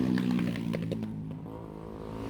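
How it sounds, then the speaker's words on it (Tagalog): A motorcycle engine runs on a town street in Subic, a fairly faint, steady humming drone with light clattering bursts early on that eases into a softer idle. "ingay ng motor"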